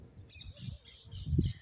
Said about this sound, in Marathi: कशा चिमण्या चिवचिव करत्या.